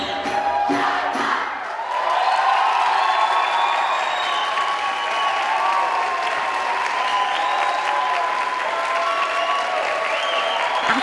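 A crowd on a choir's tour in Brazil claps and cheers loudly and continuously after a danced song, the applause dense and sustained with shouts and whistles rising through it.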